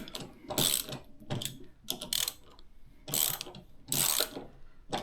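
Close ratchet clicking as connecting rod bolts are snugged in an engine, several quick bursts of pawl ratcheting in an uneven back-and-forth rhythm with short pauses between strokes.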